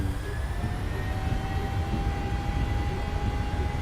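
Boeing 737-800 jet engines spooling at takeoff power in a flight simulator game, a steady, loud broadband roar with a faint whine running through it, continuous and unbroken.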